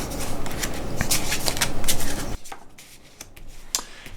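Paper cards from an Exit escape room board game being handled, giving brisk crisp shuffling and flicking rustles up close, busier at first, then sparser light taps and slides.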